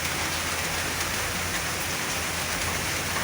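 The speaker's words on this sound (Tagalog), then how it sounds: "malakas po yung ulan" Heavy rain pours down steadily, a dense, constant hiss of drops hitting surfaces nearby with no pauses or voices.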